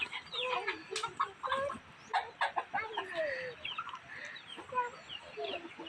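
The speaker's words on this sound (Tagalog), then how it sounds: "Ayan, hinuhuli nila yung manok." Chickens cluck and squawk close by in a Philippine countryside yard as people catch them, with steady agitated calls and a few louder alarmed cries over a noisy outdoor background.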